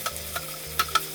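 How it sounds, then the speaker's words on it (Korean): Eggplant and onion with sauce are stir-fried over high heat, with a low steady sizzle broken by a few sharp spatula scrapes and taps against the pan, close and without talk. "강불에 야채 양념이 잘 벨 정도만 살짝 볶아주세요."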